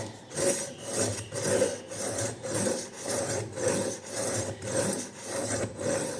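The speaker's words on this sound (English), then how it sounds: "sharpen through the middle grit. Just as before, hold it firmly from above" Kitchen knife drawn repeatedly through the middle grit of an IKEA SKÄRANDE sharpener, producing a steady rhythm of close, raspy scraping strokes, about nine in six seconds, with no talking.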